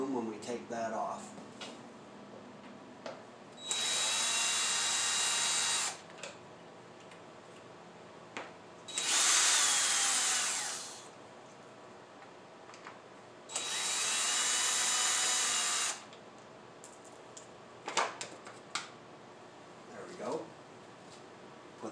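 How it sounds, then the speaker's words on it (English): A power tool removes three air box cover bolts on a 2011 Kawasaki Ninja 250, giving three separate whirring bursts of a few seconds each, with light clicks and handling noises between them. "We'll remove these 3 bolts for the air box cover"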